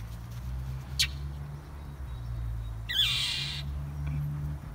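A mother bird near her nest outdoors gives two sharp calls, one brief and one longer burst a couple of seconds later, over a steady low background hum with no speech.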